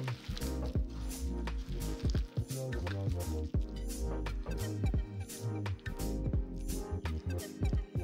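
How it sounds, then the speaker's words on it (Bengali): Vegetable manchurian dough worked and squeezed by hand, giving soft wet squishing and squelching sounds in a steady irregular rhythm, close up and fairly quiet, with no talking. "এইভাবে মন্ড তৈরি করে নিচ্ছি।"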